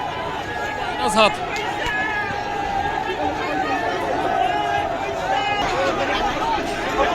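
Gen-Z protesters crowd near Nepal's parliament, a dense, steady babble of many voices with occasional louder shouts rising out of the din, close and continuous throughout.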